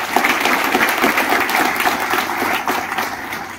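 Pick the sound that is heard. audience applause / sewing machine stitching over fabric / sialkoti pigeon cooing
audience applause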